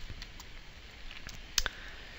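Two quick computer mouse clicks sound close and crisp over a quiet background, with faint lighter taps before them.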